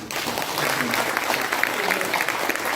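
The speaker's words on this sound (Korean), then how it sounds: "박수를 한번 쳐주시겠습니다." An audience at a public report meeting applauds its supporting members: dense, steady clapping fills the whole stretch at moderate loudness, with a voice faintly present underneath.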